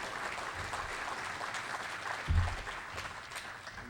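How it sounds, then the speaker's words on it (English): Audience at a 2006 sports Hall of Fame induction ceremony claps in a warm round of applause, a dense, moderate patter that swells briefly midway before easing. "Let's give T.C. Britton, class of 2006 Hall of Famer, a warm round of applause."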